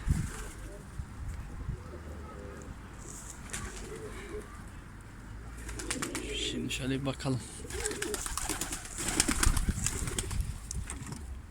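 Pigeons coo softly in the background while someone talks, followed by a burst of wing flapping and rustling near the end.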